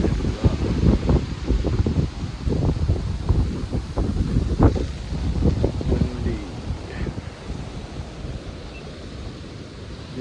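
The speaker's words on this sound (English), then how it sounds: "probably the sound of the wind." Wind blowing over a lake with choppy water, a steady outdoor rush of gusts and microphone buffeting with lapping water underneath, loud and close throughout.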